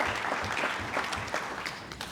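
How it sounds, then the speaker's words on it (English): Sustained applause from a lecture audience, dense overlapping claps at an even level for a couple of seconds, no voices over it. "we can give him another round of applause."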